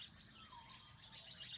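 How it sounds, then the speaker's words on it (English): Birds chirp and tweet in a garden on a foggy morning, a faint scatter of high, thin calls overlapping one another against a quiet background with no talking. "I love listening to the birds sing."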